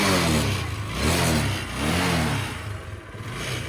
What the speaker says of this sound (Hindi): तो देखिए चालू हो गई गाड़ी। वाइब्रेशन का साउंड सुनिए,